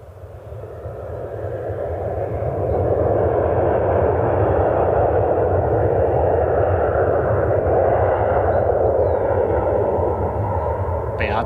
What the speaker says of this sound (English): Got a 737 inbound from Chicago.